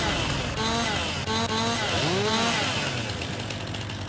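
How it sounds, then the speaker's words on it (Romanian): Chainsaw cutting tree branches in the game Farming Simulator 19, a steady buzzing engine drone with rising and falling revs as limbs are trimmed, continuous throughout with a faint voice beneath. "Trebuie să le tăiem penguțele, să-i curățăm frumos."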